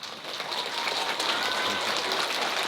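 A crowd at a school assembly jazz concert applauds the keyboard player, quickly building into a thick, even roar of clapping that holds steady at full strength.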